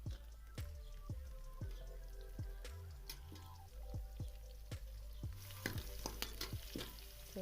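Chopped onions fry and sizzle in a pan on their way to golden brown, a soft steady crackle broken by regular scraping stirs of a spoon against the pan, close and fairly quiet.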